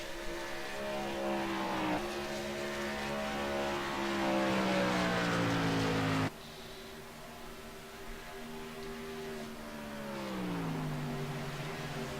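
Race cars lap Las Vegas Motor Speedway in a sim racing video game, engines whining loudly with pitch sweeping down and up through gear changes and a sudden cut midway as another car's note takes over.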